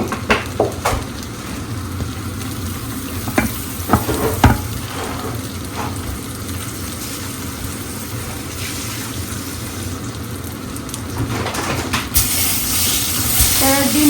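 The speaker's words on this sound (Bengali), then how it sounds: "এখানে ভেন্ডি ভাজিটা প্রায় হয়ে আসছে, এখন আমি হচ্ছে ডিমটা ভাজি করে করবো।" Okra (bhendi bhaji) frying in a pan makes a steady close sizzle, with occasional stirring scrapes and brief clatter throughout, growing a little louder near the end.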